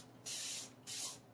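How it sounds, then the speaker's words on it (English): Two short bursts of fine mist from a spray bottle wetting a synthetic paintbrush, each a soft hiss lasting about half a second, close and quiet. "kind of mist it a little bit because you never want to start out with a dry brush"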